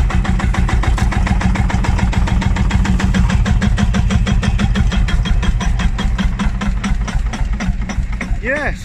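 Vintage tractor engine idling at a show in Marshall's Yard, Gainsborough, a loud close steady chugging with a regular low mechanical beat that runs throughout.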